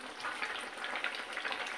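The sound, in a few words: tempering spices sizzling in fish curry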